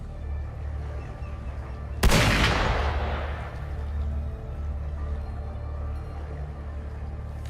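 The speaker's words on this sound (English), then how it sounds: "Gunfire! We've got intruders." A burst of gunfire erupts in a video game as Tidespawn intruders attack, one sharp loud blast followed by a long rumbling decay over a steady low ambient game drone.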